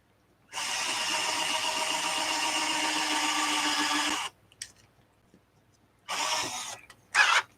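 Power drill boring holes into an amplifier casing to mount it to a counter, a steady loud whine running for several seconds, stopping, then two shorter bursts, close up with no talk.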